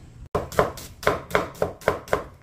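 An onion is sliced thin with a knife on a cutting board, the sharp blade strikes landing in an even rhythm of about eight close, crisp chops.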